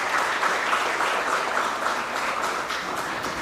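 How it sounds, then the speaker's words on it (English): Warm applause from the audience at an interior design institute's investiture ceremony, brisk even clapping from a moderate crowd sustained throughout, slightly distant. "A big applause for them."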